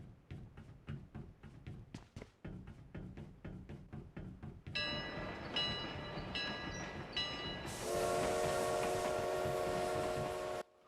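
Train in a battle royale video game rolling along with steady rhythmic clatter, starting out as sharp repeated clanks and then swelling into a loud continuous rumble topped by a ringing bell-like tone.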